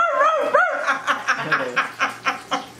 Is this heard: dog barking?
yes